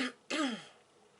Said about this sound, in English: I start coughing when I start talking.